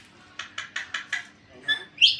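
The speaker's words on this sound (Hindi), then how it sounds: "कॉकटेल है, कॉकटेल" A pet cockatiel parrot calls close by, five quick evenly spaced chirps followed by two louder, shriller squawks.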